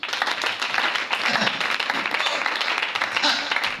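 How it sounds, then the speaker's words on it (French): Church congregation applauding for Jesus, dense sustained clapping that fills the room at a steady level and continues throughout. "Acclame Jésus."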